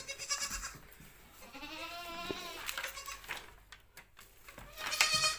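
Fifteen-day-old goat kids on a goat farm bleat close by, several wavering cries rising and falling between quieter pauses, with one louder bleat near the end.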